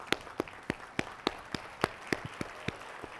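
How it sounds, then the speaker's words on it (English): Sparse, slow clapping from a small audience at a general session, a few distinct claps spaced roughly evenly, fairly quiet and with no talk over them. "really stand up and clap for each other"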